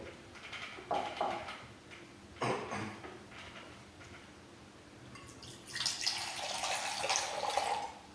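Asturian flat cider being poured into a glass in Spain, several separate bursts of splashing liquid, the last one longer and louder, with quiet gaps between them.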